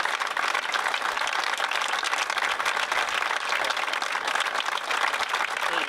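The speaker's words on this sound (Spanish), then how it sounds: "te pido que subas a recibir el aplauso que te mereces" A crowd at a Partido Popular candidate announcement in Orihuela gives dense, sustained applause, steady and fairly loud throughout with no pauses.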